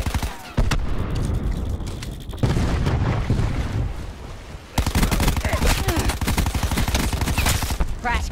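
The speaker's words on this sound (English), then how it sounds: "Cluster grenade." Cluster grenade blasts and gunfire in Call of Duty Black Ops 4 multiplayer, a dense, loud run of overlapping booms and rapid shots that keeps going throughout with brief lulls, all under speech.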